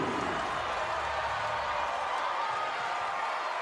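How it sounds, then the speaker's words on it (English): A college basketball crowd cheers and applauds in a loud, dense, sustained roar of clapping and shouting that fills the arena without letup. "And the crowd is on its feet."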